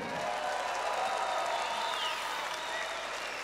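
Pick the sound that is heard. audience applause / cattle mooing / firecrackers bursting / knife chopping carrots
audience applause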